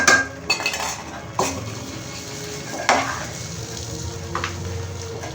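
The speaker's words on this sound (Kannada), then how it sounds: "ಇದೆಲ್ಲ ಮಸಾಲೆ ಇದಕ್ಕೆ ಹಾಕೋಣ. ಗೊಜ್ಜು ಅವಲಕ್ಕಿ ಎಲ್ಲ ಮಿಕ್ಸ್ ಮಾಡ್ಕೊಳ್ಳೋಣ" A spoon scrapes and knocks against a pan while gojju avalakki is stirred together with masala on a switched-off stove: several sharp clinks and scraping strokes over a faint residual sizzle, with no talking.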